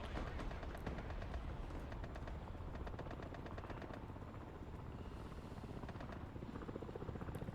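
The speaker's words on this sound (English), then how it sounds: "here comes the Vipers. AH-1 attack helicopters coming in with rockets and cannon." Attack helicopters in the Warhammer 40,000 Darktide video game, AH-1 Vipers firing rockets and cannon, give a loud, continuous rotor roar mixed with rapid gunfire bursts that stay steady throughout.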